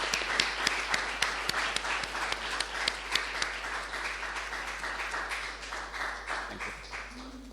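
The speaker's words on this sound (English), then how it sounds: "let's thank him with a big applause" Conference audience in Venice applauding a speaker, a dense round of clapping with a few sharp individual claps standing out early, gradually thinning and fading toward the end, a low hum underneath.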